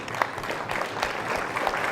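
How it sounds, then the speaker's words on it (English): Applause from the audience at a summit of heads of state, a steady wash of clapping with scattered louder claps, moderately distant and continuous throughout. "I ask us to give them a big round of applause"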